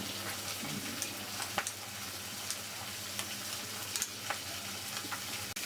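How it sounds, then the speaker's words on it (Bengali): Rohu fish fries in a pan with a continuous close sizzle, and a few sharp clicks of a utensil against the pan break in now and then. "মাছটা ভাজা হয়ে গেছে,"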